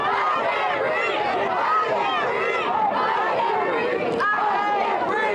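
A large crowd of about 60,000 demonstrators fills downtown Houston with a steady, dense hubbub of chatter and overlapping voices, loud and continuous throughout.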